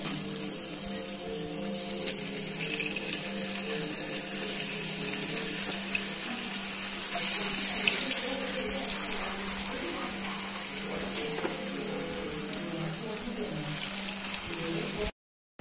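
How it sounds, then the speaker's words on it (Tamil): Mushrooms deep frying in hot oil in a pan, a dense, continuous bubbling hiss that holds steady and close for the whole stretch, swelling slightly midway, with no talking. "இப்ப நல்லா ஃப்ரை ஆயிட்டு இருக்கு."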